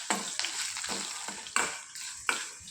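Tamarind, spices and curry leaves frying in a pan, a close sizzle with several sharp, evenly spaced stirring scrapes, no talking.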